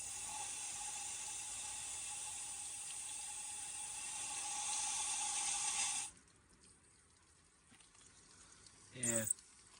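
Washer fluid pours steadily from a leaking window washer reservoir on a Nissan X-Trail, a continuous close splashing stream that stops suddenly, leaving quiet with a brief trickle near the end.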